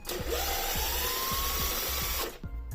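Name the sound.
removing the bottom plates of a Traxxas UDR RC truck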